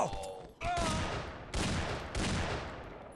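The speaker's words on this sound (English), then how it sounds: "Shooting them like three more times after they're dead, wasting the ammo." Repeated bursts of rapid video game gunfire in a green-tinted shooter, three or four loud volleys close together, each ending abruptly with brief gaps between them, with no talking over them.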